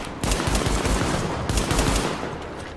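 Pistol gunfire from The Division on PS4 rings out as a rapid, dense run of loud shots in a fast steady rhythm, briefly easing before another burst, with no speech.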